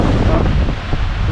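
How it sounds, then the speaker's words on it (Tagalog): Strong typhoon wind roars and buffets the microphone in a dense, loud rumble, steady throughout this brief moment. "Lakas ng hangin, oh."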